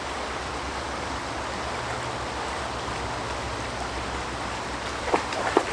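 Ganaraska River, a small creek in Ontario, flowing steadily with a continuous broadband rushing wash, even and unbroken, with a couple of faint clicks near the end.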